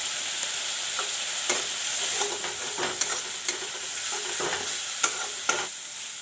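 Chili powder and cumin (jeera) powder masala fries in a pan with a loud, continuous sizzle, while a spoon scrapes and taps through it at irregular intervals.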